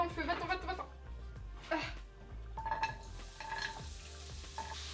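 Onions and carrots fry in a hot pan, a crackling sizzle with bursts of stirring and clatter of the utensil, while a person talks over it close by.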